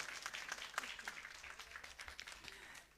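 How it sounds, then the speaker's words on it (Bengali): Audience applause at a live Bengali song program closing ceremony, a dense steady patter of many hands that fades out near the end. "সেই জন্য সচিমাতা আর ইন্দ্রের জন্য আরো একবার জোর করে করতালি চাই।"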